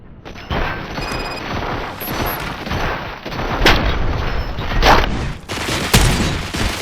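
A rapid fusillade of gunfire in Robocop: Rogue City rattles on loud and continuous, punctuated by sharper cracks and crashing impacts near the end.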